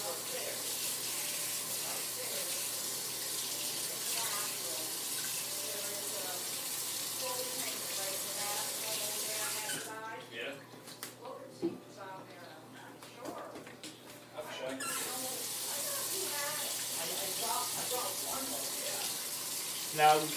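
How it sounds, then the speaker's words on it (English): Tap water running steadily while celery is rinsed under it, a close hiss that briefly drops away in the middle before returning, with a person talking over it. "we are going to rinse the celery"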